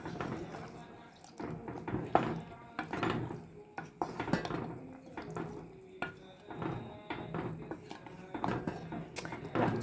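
A spoon clatters and scrapes in a pot as okra and meat are stirred with tomato sauce for a tagine, with irregular metallic knocks and faint liquid sounds, a voice talking intermittently over the stirring.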